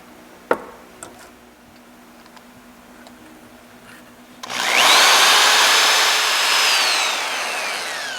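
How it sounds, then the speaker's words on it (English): Bore hone run through a hole in a metal part in a workshop, first a few sharp clicks and taps, then a loud, steady whirring drill spin starting abruptly and running to the end. "I've got a bore hone. I think I can run through there."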